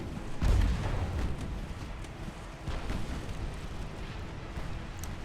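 Naval main guns fire high-explosive shells in a dreadnought-era battleship game, a heavy booming blast near the start followed by rolling low rumble and scattered distant thuds; no speech.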